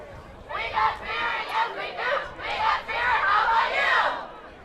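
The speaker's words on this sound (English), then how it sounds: "Crowd getting into it tonight." Crowd in the stands at a high school football game, Richland Center at Westby, yelling and cheering in rising waves, fairly loud and continuous for several seconds.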